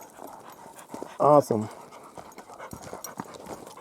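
A dog pants hard and whimpers on a forest trail among giant trees, a loud close burst of quick breaths partway through, with people talking around it.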